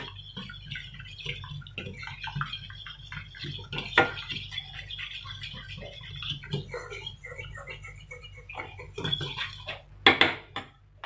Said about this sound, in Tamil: இது நல்லா வந்து இந்த பேன்லேயே நான் வந்து மிக்ஸ் பண்ணிக்க போகிறேன்.